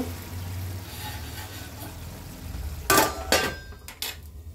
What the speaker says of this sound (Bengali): আর একটু হবে, আর একটু ঢাকা দেব।